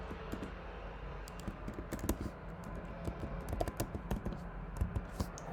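Someone types a password on a computer keyboard in a quick, uneven run of light key clicks, close and clear over a quiet room.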